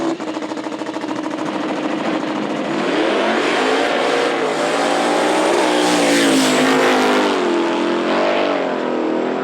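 Drag racing cars launching and roaring down the strip at Knoxville Dragway in a small-tire class semifinal, with loud, continuous engine noise that rises and sweeps in pitch as the cars accelerate, filling the whole stretch.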